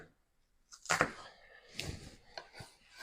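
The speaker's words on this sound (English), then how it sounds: "I'm making very, very thin slices of this yellow onion." A knife slices a yellow onion very thinly on a cutting board, giving a few quiet, separate chopping thunks with short pauses between them.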